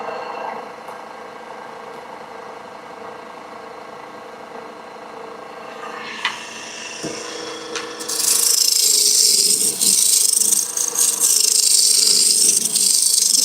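A roughing gouge cuts a wooden bud vase spinning on a lathe, a steady scraping rasp that swells sharply louder and brighter partway through as the tool bites in, close and continuous with no talk.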